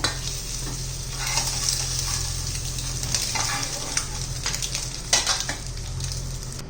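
Eggs frying in oil on a tawa, a steady close sizzle with scattered scraping and stirring clinks, one louder clatter near the end; no talking.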